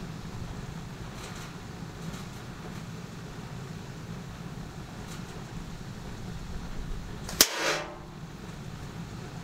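A Swhacker broadhead arrow strikes a metal target with a single sharp, loud crack and brief ringing clang after a quiet outdoor stretch.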